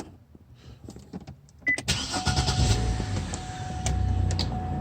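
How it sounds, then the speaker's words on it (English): A 2005 Cadillac STS that had a no-start problem: after a few quiet clicks and ticks, the engine cranks and catches, then settles into a steady close idle with a faint whine over it. "And once you do that, your car will start as normal"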